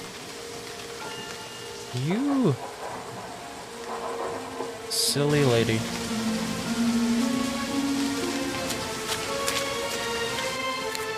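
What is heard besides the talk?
rain falling in video game Remothered: Tormented Fathers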